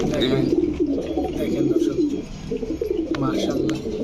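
Large pigeons cooing repeatedly at a pigeon market, soft throaty calls close by, with people talking underneath.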